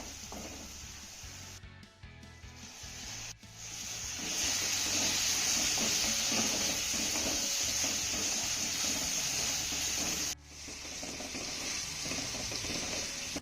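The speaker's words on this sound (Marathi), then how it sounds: "यामध्ये आपल्याला एक बारीक चिरलेला टोमॅटो घालायचा आहे आणि तो देखील छान असा मौसूद होईपर्यंत परतून घ्यायचा आहे" Finely chopped tomato sautés with onion in a hot pan, a steady close sizzle that swells after a few seconds, with brief dips where the pan is stirred or lifted, and no talk.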